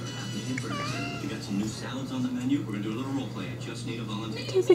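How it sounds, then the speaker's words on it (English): A pet cat meows softly indoors a few times, mixed in with a baby's cooing and an adult talking over a steady low hum. "oh, that was a kitty."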